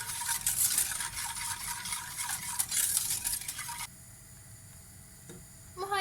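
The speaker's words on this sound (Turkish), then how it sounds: "altını açıyorum ve kaynayana kadar bu şekilde sürekli karıştırıyorum" A spoon continuously stirring a milk pudding mixture in a pot over the heat, a close scraping swish for a few seconds that then drops to quiet with a few soft taps.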